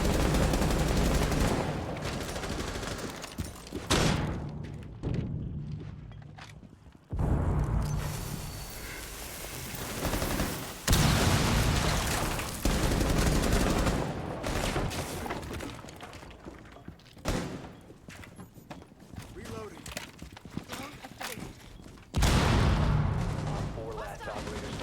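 Rainbow Six game audio: bursts of gunfire, explosions and shattering crashes come and go in loud, dense stretches separated by brief lulls, with a player's voice talking over parts of the action.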